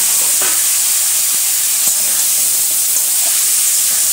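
Potato and pointed gourd pieces hit hot oil in a pan and sizzle loudly, a dense, constant hiss with faint crackles throughout and no talk.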